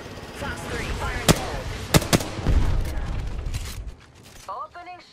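Gunfire in the Apex Legends battle royale shooter during a ranked match: a few sharp, loud shots ring out over a busy mix of game noise, with a burst of rumbling fire in the middle and quieter mechanical clicks near the end.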